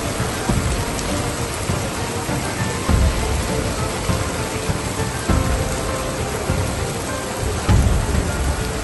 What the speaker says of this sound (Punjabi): ਤੇਜ਼ ਹਵਾਵਾਂ ਦੇ ਨਾਲ ਬਰਸਾਤ ਪੈ ਰਹੀ ਹੈ।